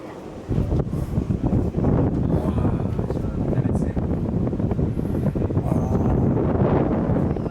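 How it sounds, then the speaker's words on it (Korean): Strong wind buffets a microphone outdoors in a small town in southern Italy, a loud, steady low roar that begins abruptly and keeps gusting throughout. "아 바람 많이 분다"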